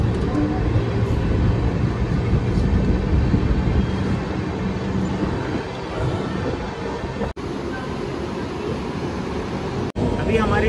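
The 12216 Garib Rath Express rolls along between Anand and Nadiad on the Mumbai to Delhi route, heard from inside as a steady loud rumble and rattle with two sharp brief drops in the noise near the end.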